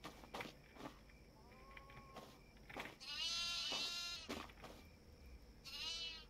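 Goats bleat in a video game, several wavering, drawn-out calls at moderate distance, spaced by soft thuds and footsteps against quiet background.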